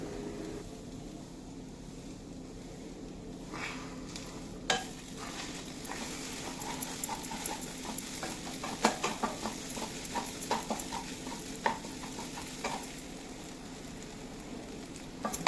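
Egg frying in a little oil on a tawa with greens, a faint low sizzle with scattered scraping and tapping from a spatula stirring the pan.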